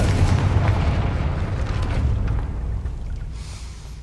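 A Confringo fire explosion spell in the Hogwarts Legacy video game, a loud deep booming blast that rumbles and fades over a few seconds, alone.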